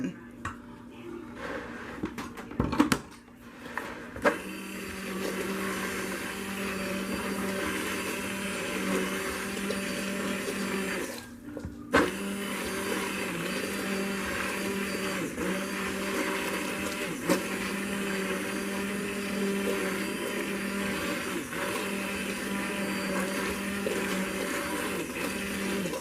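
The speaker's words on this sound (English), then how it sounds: "I'm going to take my stick blender and kind of try to blend that all in." A steady electric whir of a stick blender mixing whipped shea body butter runs almost continuously, with a brief pause and a few clunks early on, and a faint voice underneath.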